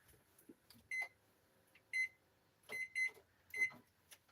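A kitchen timer being set for seven minutes to cook noodles, giving several short, clear electronic beeps in separate bursts, close and fairly quiet in an otherwise still kitchen.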